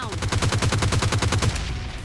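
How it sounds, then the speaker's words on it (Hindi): Rapid automatic gunfire from the PUBG Lite battle-royale game: a steady burst of about a dozen evenly spaced shots over a second and a half, loud and close, then tailing off into a fading echo. "ये कौन बॉट फायर करके बुला रहा है फिर से भाई?"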